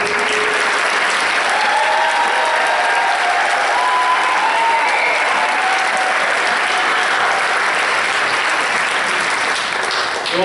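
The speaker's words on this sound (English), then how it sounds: "Jeremy, stand up one more time so we can give you a round of applause." Sustained applause from a large graduation audience honoring graduate Jeremy at a Project SEARCH ceremony, steady dense clapping filling the room with a few faint crowd murmurs underneath for the full stretch.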